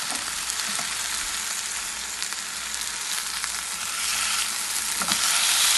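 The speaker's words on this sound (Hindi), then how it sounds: "बिल्कुल इसको फुल में पकाएंगे हम स्टेक को, अराउंड 6 मिनट ईच साइड।" Steak frying in a pan, cooked about six minutes per side: a steady, close, loud sizzle that builds slightly toward the end, with no talk.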